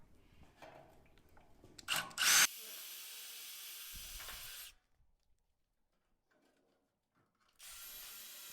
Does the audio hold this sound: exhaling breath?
no